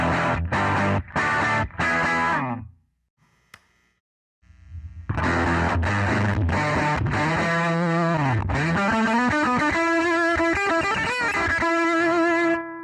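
Electric guitar through a Fender Jack White Pano Verb amp with the drive off: a few choppy strummed chords, a short pause, then sustained ringing notes and bends, loud and close.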